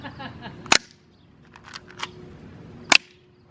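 Airsoft gun shots fired at a Frankenstein target: two sharp, loud snaps about two seconds apart, with faint background rustle between them.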